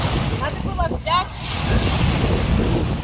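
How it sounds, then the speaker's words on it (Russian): Strong sea waves roll onto the shore in warm water, a loud broad surf wash with wind buffeting the microphone throughout, and a brief voice is heard near the start. "Волны сильные."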